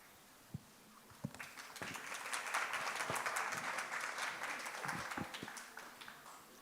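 An audience applauds at the close of a lecture on human rights and constitutional responsibilities. A few scattered claps swell into sustained, moderately distant clapping that fills the room, then thins toward the end.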